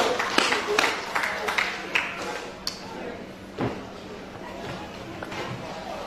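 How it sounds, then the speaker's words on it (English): A church congregation claps at a youth outreach service. Scattered, uneven claps and taps sit under a person speaking over them. "Let's give God another clap this morning."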